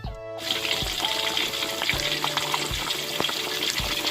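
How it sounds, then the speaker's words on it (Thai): Two pieces of striped catfish fry in hot oil for a Thai dish, giving a steady, close, dense sizzle with bubbling and occasional crackles throughout. "ทอดปลาสวายก่อนนะครับ นี่เราทอดประมาณ2 2ชิ้นเท่านั้น"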